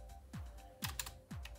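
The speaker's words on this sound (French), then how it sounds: "Et en bas vous avez un clavier à membrane G-Lab." Keystrokes on a G-Lab membrane keyboard, a few distinct close taps spaced irregularly, each a soft clack with a quick decay, heard alone in a quiet room.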